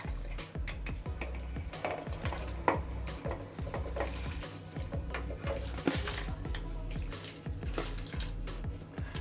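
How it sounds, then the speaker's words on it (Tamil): Rice poured into a pot of vigorously boiling water for chicken dum biryani, with a steady bubbling churn, repeated knocks of utensils against the pot and brief splashy pours, all close and moderately loud. "இப்போ நம்ம வச்சுருக்க வந்து அரிசி அதில் போட்டுடலாம்."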